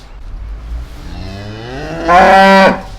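A Hereford cow, about six years old, on a breeding farm lets out a single loud, drawn-out moo that rises and swells near the end, close by and alone without talk.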